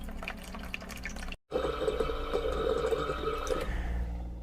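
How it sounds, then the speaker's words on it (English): A SimPure Y7P reverse osmosis water filter runs its flush cycle, giving a steady close rush of flowing water with a brief dropout early on before it continues evenly. "And this is flushing that filter right now."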